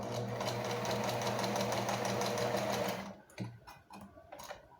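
A sewing machine stitches a classic skirt in a fast, steady run of rapid mechanical ticks for about three seconds, then stops, leaving a few faint clicks and handling noises.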